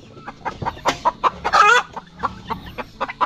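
Chickens cluck in a farmyard with repeated close, short calls, and a rooster crows once in the middle, loud and near.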